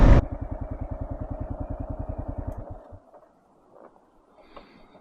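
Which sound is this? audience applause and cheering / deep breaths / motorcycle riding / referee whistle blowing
motorcycle riding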